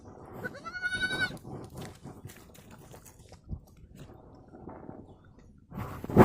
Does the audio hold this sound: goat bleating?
yes